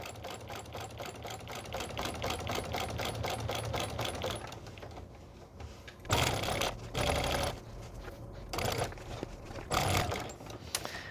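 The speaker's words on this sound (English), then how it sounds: "I'm going to back stitch it in place just nice and secure." A sewing machine back stitches an appliqué piece on a pillow, its needle chattering in a fast steady rhythm close by, then breaking into short bursts of stitching separated by pauses.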